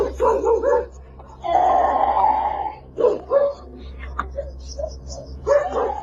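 A dog barks and yips outdoors in a series of loud, uneven bursts with whimpering between them, heard alone at close range.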